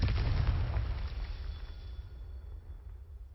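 A Confringo spell blast in Hogwarts Legacy, one loud booming burst at the start that rumbles and fades away over a few seconds, with no voices.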